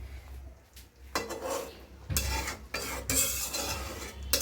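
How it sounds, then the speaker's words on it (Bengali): A spoon gently stirs rohu fish heads in a pot, giving soft scraping and clinking bursts with a faint simmer between them. "আমি একদম কি বলে হালকা হালকাভাবে নাড়াচাড়া দিছি"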